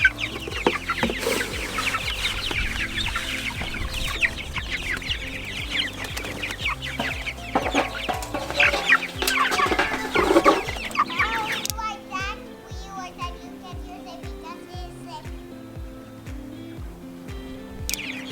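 Meat chickens out on grass cluck and chatter steadily and loudly, a dense flock sound with overlapping calls, fading into quieter scattered clucks with a regular background thumping rhythm.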